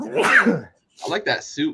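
A single sharp sneeze bursts out, followed after a brief pause by someone talking nearby.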